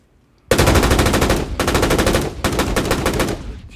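Designed game-audio gunfire: a loud, close burst of automatic shots with a sharp attack, rattling on in three rapid volleys with brief dips between them, the tail trailing off at the end.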